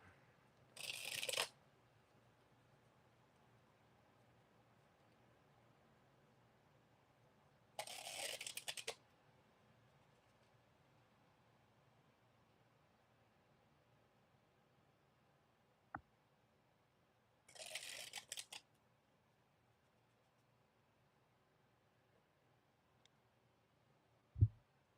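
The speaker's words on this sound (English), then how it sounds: "I'm just shuffling the cards." Tarot cards are shuffled by hand, the taped deck kept from riffling, in three short, crisp bursts of card-on-card rustle separated by long quiet pauses, close and with no talking.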